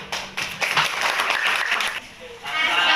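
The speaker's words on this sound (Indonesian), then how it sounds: "tepuk tangan dulu" Students in a school classroom applaud as a group is called to the front, a dense burst of clapping that holds steady for a few seconds with voices mixed in.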